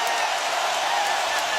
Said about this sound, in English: Oh, this crowd is alive again.